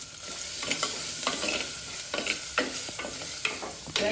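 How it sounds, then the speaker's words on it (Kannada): Onion, okra and tomato fry and sizzle in a pot for ragi mudde sambar, with steady hissing broken by repeated scraping stirs of a spoon against the vessel, close and moderately loud. "ಟೊಮೆಟೊ ಸ್ವಲ್ಪ ಫ್ರೈ ಮಾಡ್ಕೊಳ್ಳೋಣ."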